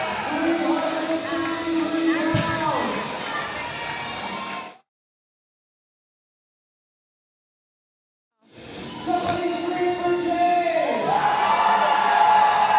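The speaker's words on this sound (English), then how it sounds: "The crowd is going absolutely wild for James." Crowd at a powerlifting state championship meet roaring and cheering wildly for a lifter, loud and continuous with shouts mixed in, cutting out to silence midway before the noisy cheering resumes.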